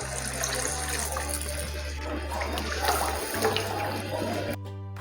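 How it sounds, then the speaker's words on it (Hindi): Water poured into a pot of cooking besan khandvi curry, a steady broad gushing splash running close and continuous, with a low hum beneath, ending abruptly near the finish. "अब मैं ये पानी इसके अंदर ऐड कर दूंगा।"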